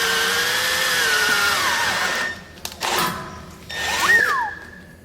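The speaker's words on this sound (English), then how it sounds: "The drill is drilling" Power drill whirring at a BMW E30 brake, a high steady whine that slows and stops, followed by brief clanks, then the motor spinning up again in a short rising burst, close by.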